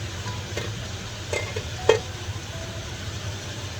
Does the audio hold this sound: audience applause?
no